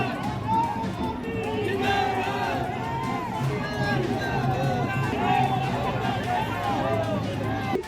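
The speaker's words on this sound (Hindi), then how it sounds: "ये जो भीड़ आप देख रहे हैं पैसे की भीड़ नहीं, अपने पैसे से आए हैं" A large crowd of supporters gathers at a Congress candidate's nomination rally, a dense steady babble of many voices close by with shouts rising over the constant chatter.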